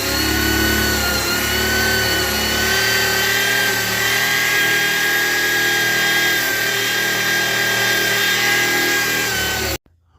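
Metal grinder works steadily over a classic Ford Mustang's floor pan, a loud continuous whine and rasp with shifting pitch that runs without pause until cutting off abruptly near the end.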